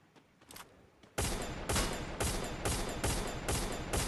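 Rapid bursts of gunfire from the mobile battle-royale game Free Fire MAX, starting abruptly after a quiet second and continuing as loud, dense volleys with brief regular pulses, without speech.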